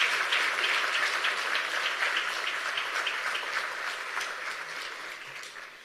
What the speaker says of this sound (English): I think you need to give yourself a very warm round of applause